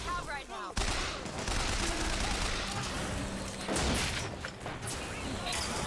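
Rapid gunfire rattles through a video game firefight near the companion Elizabeth, a dense, loud burst of shots that runs almost without pause under game noise and a speaking voice.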